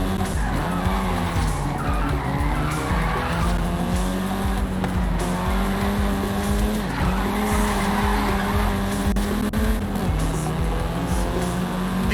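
Volkswagen Golf R racing in Forza Horizon 5 on a Mexican setting, with a steady loud engine drone and continuous tire squeal and skidding throughout, shifting pitch as it slides.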